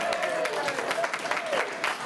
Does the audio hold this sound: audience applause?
yes